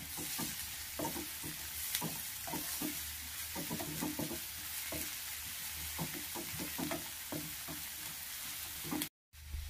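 Chopped onions and green chillies fry in a pan for egg bhurji: a continuous close sizzle laced with frequent clattering stirs, cutting out abruptly near the end, with no voices.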